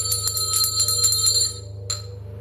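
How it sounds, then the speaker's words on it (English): A bell rings in a historic mansion at night: a bright metallic ringing sustained for about a second and a half, then a single brief strike, alone without voices. "Bell rang back, ring that bell again."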